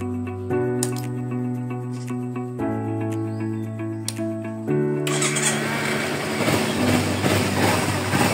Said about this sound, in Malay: Lepas tu kita boleh start enjin.